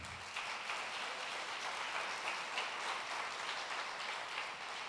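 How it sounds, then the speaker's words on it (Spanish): Dense, steady applause from an event audience in a university auditorium, a continuous wash of many hands clapping at moderate distance for about five seconds, with no voices over it. "Para ellos un fuerte aplauso."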